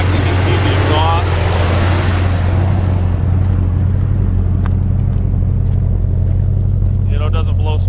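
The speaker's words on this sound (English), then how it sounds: "Go ahead and rev it up a little bit. You know, sounds great." A 1978 Chevy Cheyenne pickup engine runs loud and close outdoors with a deep, steady exhaust rumble and brief revs, while someone talks over it.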